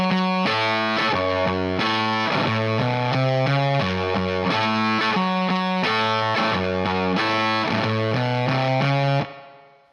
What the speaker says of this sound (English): I have a crazy fuzz pedal turned on, and that was definitely a part of the sound